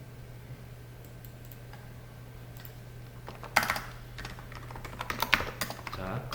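Computer keyboard keys clicking in a few short bursts over a steady low hum, the typing growing busier toward the end.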